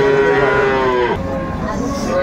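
A dairy cow with its calf gives a long, loud, close moo at the Aftabganj cattle market, followed by a shorter lowing call amid faint crowd murmur.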